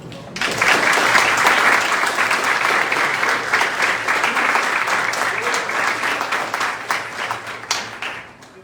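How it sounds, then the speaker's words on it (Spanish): Strong applause fills an auditorium at a commemorative ceremony, a dense, sustained wash of many hands clapping that starts abruptly, holds steady and slowly tapers near the end, with no speech over it. "Fuertes aplausos para ellos."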